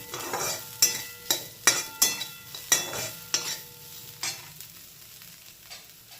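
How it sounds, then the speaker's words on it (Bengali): Spoon stirring boiled potato with curry leaves and ground black pepper in a pan, a series of about eight sharp scraping strokes over a soft sizzle, close and fairly loud, tapering off toward the end. "ওটা নিয়ে একটু কষবেন যাতে পুরো মিশে যায় আলুটার মধ্যে গোলমরিচ গুঁড়োটা।"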